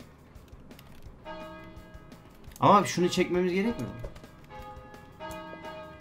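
Bell rung inside the ragdoll fighting video game Havocado: Ragdoll Fighter, its tone sounding among game effects at moderate loudness while players talk loudly and excitedly over it.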